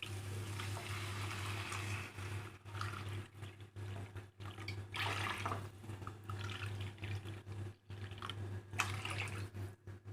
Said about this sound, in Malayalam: 3 കപ്പ് വെള്ളമാണ് ഒഴിച്ചു കൊടുക്കേണ്ടത്